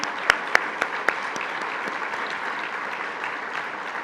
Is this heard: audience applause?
yes